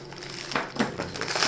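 A knife cuts into the cardboard shipping box of a Romanian AKMD63 AKM rifle kit, giving close crinkling, tearing scrapes in short bursts across a quiet room.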